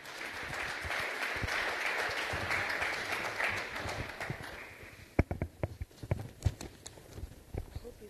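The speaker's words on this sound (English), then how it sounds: "Ladies and gentlemen, round of applause for Mebeti Mungate." An audience at an evening school excellence awards ceremony applauds a speaker, with dense clapping that fades after about four seconds into scattered individual claps and footsteps.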